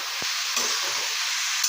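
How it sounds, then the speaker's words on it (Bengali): Ground turmeric, cumin and coriander spices fry in hot oil in a pan, giving a steady close sizzle with a couple of soft stirring knocks. "একটু ভালোভাবে ফ্রাই করবো।"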